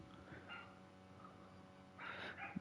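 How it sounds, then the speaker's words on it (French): A neighbours' small dog barks faintly in the distance, a couple of brief yaps in a quiet room. "Désolé si vous entendez un petit chien."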